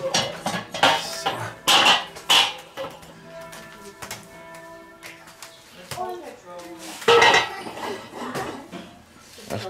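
A frying pan set down on a grill while a breakfast pan with egg, bacon and baked beans is being prepared outdoors, giving sharp metallic clanks and ringing tones close up, with people talking throughout.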